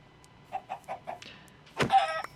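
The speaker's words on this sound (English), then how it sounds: "Chicken as well." A chicken in the video game Minecraft clucks four times in a quick evenly spaced run, followed by a louder, harsher burst of game sound.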